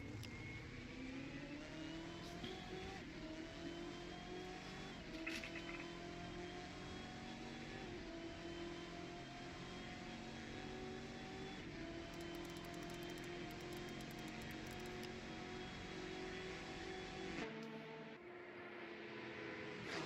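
LMP prototype race car engines in Assetto Corsa during a Petit Le Mans race at Road Atlanta, a continuous high droning whine with rising and falling pitch as the cars run side by side, loud and steady, then a brief cut.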